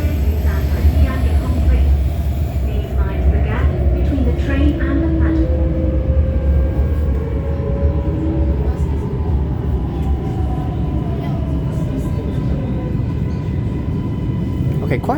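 A Shenzhen Metro Line 4 train runs with continuous low rumble and rail noise, faint squeals and tonal whines sliding through, while voices talk over it.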